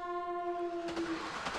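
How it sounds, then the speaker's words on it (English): Game train in Akihabara with yellow-striped cars: a sustained harmonic horn tone gives way to a broad, rushing rumble as the cars pass, with no voices. "Across the way, train rumbles by."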